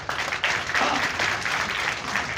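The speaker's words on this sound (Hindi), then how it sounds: "तालियां भी बजा दीजिए" An audience applauds at a district crime prevention committee meeting at a reserve police lines hall, loud steady clapping from many hands lasting a couple of seconds.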